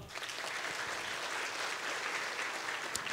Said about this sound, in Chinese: 我们给自己一个最热烈的掌声好吗？